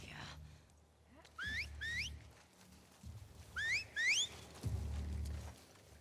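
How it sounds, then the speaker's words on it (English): Shrill rising whistles from Seraphite cultists in The Last of Us Part 2, sounding in two paired bursts over low game rumble and thuds, fairly loud and close. "Alert whistle, get out."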